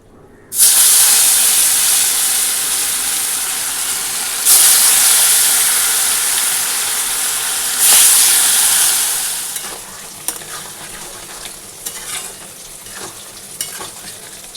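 Pabda fish frying in hot oil, a loud, close, bright sizzle that surges in waves, then settles to a quieter crackle with scattered pops and clicks.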